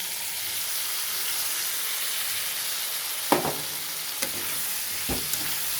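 Vegetable stalks and potato fry in hot oil with cumin, ginger and chili paste, a steady moderate sizzle with a few sharp clinks and scrapes of stirring toward the end.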